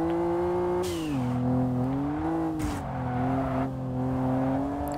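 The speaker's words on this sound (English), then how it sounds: "I love the sound of that turbo blow-off valve" A turbocharged car in the racing game Kaido Racer holds a steady, droning engine note. Short airy hiss bursts cut through as the turbo blow-off valve vents between throttle changes. No one speaks.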